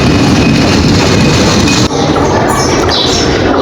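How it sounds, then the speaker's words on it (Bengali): A passenger train from Khulna bound for Benapole pulls into Rupdia railway station, its loud, steady rumble of wheels and carriages filling the air close by, with a brief dip partway through. "খুলনা থেকে আসলো এই ট্রেনটা"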